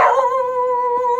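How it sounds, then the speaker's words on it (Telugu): A dog kept at a teak woodworking shop barks in one sustained, yelping cry, a steady tonal howl-like bark held for over a second, close and loud with no talk. "మా షాపులో కుక్క ఉంటుందండి, అది మొత్తుకుంటుంది."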